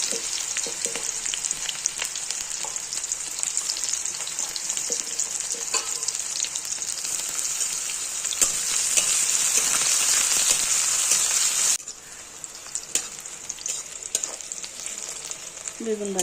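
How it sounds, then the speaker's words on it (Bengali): Diced eggplant frying in hot oil gives a steady, dense sizzle with occasional stirring scrapes, loud and close throughout, easing slightly near the end. "তেল গরম হয়ে গেছে, দিয়ে দেবো কেটে রাখা বেগুনগুলোকে"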